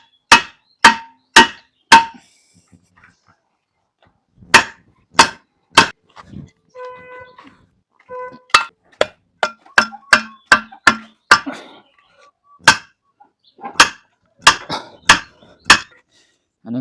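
A hammer pounds in sharp, ringing strikes, several quick blows in bursts with short pauses between, close and loud against an otherwise quiet background.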